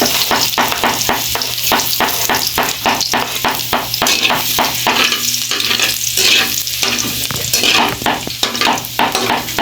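Garlic frying in hot oil for lumpiang togue, a loud continuous sizzle close by, broken by a steady run of rhythmic spatula taps and stirring scrapes against the pan.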